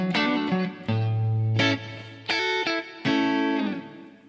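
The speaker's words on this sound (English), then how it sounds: "I've added some delay and some reverb to give it some ambiance so it's not dry" Electric guitar played through an amp profile with delay and reverb, sustained distorted notes and chords in short phrases, with ambient tails ringing out between them.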